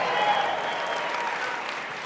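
A large crowd at a network marketing speakers event claps loudly, a thick continuous roar of applause filling the room and easing off slightly toward the end.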